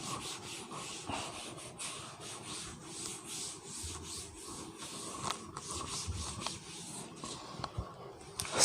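Board eraser rubbing out writing on a board in a solid-state physics lecture, a steady scratchy scrubbing that runs continuously for several seconds, close and fairly quiet with small bumps of louder strokes.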